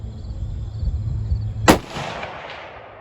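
A rifle shot strikes a dangling Caldwell 8-inch AR500 steel gong outdoors, one sharp loud crack with a ringing metallic tail that fades over a second or more.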